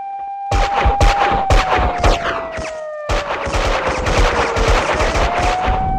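Police gunfire from the Max Payne 2 video game: loud bursts of automatic shots in two long volleys split by a brief pause, over a sustained tonal music line.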